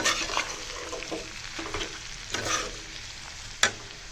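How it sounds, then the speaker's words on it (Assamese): A mixer-ground spice mix goes into a frying pan for a carrot pickle and is stirred, with a steady sizzle broken by scraping strokes and a sharp clink near the end. "এইখিনি মিক্সিত গ্ৰাইণ্ড কৰি লোৱা মছলাখিনি দিম। ভালদৰে লাগিব দিম।"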